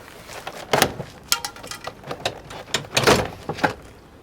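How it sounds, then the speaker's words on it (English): A car's front interior door card is pulled free of its plastic retaining clips, giving a string of sharp snaps, pops and rattling knocks, close and loud, with no talking. "and you got your door card off"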